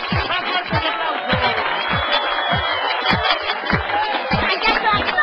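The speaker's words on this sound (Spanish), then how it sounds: "¡Más fuerte el aplauso!" An audience claps and cheers in a continuous loud wash of applause, with crowd noise and rhythmic low thumps running steadily underneath.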